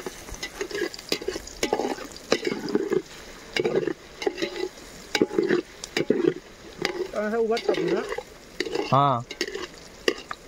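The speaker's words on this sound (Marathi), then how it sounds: "एवढं कांदा फिरवून घेतो." Onions fry in a large pot over a wood fire as a spoon scrapes and stirs them in uneven bursts, with brief metallic knocks and a short spoken interjection.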